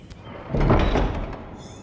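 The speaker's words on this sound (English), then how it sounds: "Those are some big doors." A heavy pair of large doors swings open in a Game of Thrones adventure game, a single low creaking, grinding sweep that rises and fades over a second, moderately loud and alone.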